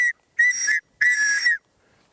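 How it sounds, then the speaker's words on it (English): Whistle blasts sounded as a distress signal in Florida wilderness near Ocala: a clipped tail of one blast, then two loud, shrill, piercing blasts of about half a second each, separated by brief silence. "The whistle. The whistle."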